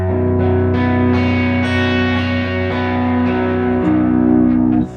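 Sustained electric guitar chords ring out with the gain raised so the clean tone just begins to break up, loud and washy with ambient effects, alone without voices.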